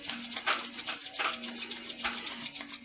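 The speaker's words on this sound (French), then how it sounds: "On frotte de nouveau les mains." Hands rubbed briskly together during a self-massage session, a close, soft swishing friction in quick repeated strokes with a brief pause midway, no voices.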